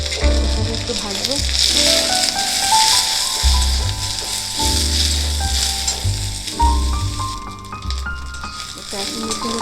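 Onion with ginger paste frying in a pan, a steady close sizzle and crackle running throughout under loud background music.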